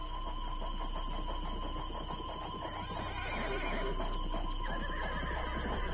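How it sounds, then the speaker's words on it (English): Horses whinny and hooves clip-clop over a steady droning hum. A clear neigh rises near the end, all at moderate volume without speech. "Yeah, tie up those horses."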